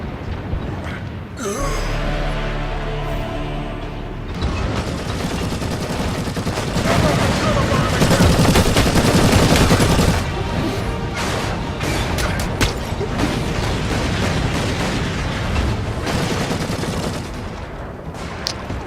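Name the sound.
heavy bolter gunfire in a video game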